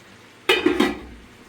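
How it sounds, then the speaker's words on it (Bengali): A lid set down on a cooking pot of meat, a sharp metallic clatter followed by a couple of quick rattles as it settles, close, then fading to a low background hum. "আবার ঢাকনা দিয়ে ঢেকে দিচ্ছি"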